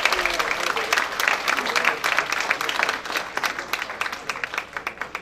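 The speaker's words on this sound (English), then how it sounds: "So how about a round of applause for all of that?" Audience applause fills a talent show hall, a dense steady round of clapping that thins toward the end, with some voices mixed in.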